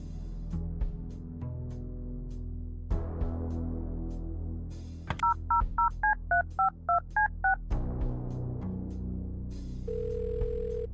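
A telephone in the video game Kathy Rain 2 plays a dial tone, then a quick series of about eight DTMF keypad beeps, with a short tone afterward. Steady background music plays under the dialing.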